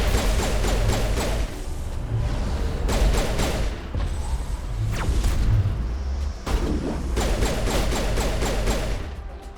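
In Mass Effect, a grenade is tossed into a firefight and goes off amid bursts of gunfire, with repeated sharp volleys, whooshing and crashing impacts forming a loud, continuous battle din and no voices.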